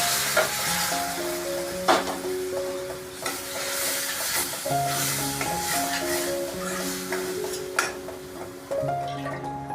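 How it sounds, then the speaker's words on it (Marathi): Turmeric and red spice mix sizzle in hot oil as a tempering for Konkani taro leaf curry, a loud, crackling fry with stirring clatter, set over steady melodic background music. "आणि अशा प्रकारे आपण आता तेरीला फोडणी दिलेली आहे"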